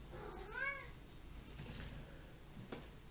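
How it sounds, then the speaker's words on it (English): A hungry cat lets out one short, clear meow near the start, fairly close but soft, followed by quiet room noise and a few faint stray sounds. "It's the cat, not a child."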